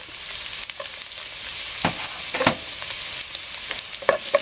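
Garlic fries in hot cooking oil in a pot, giving a steady close hiss of sizzling with scattered crackles and soft stirring scrapes throughout.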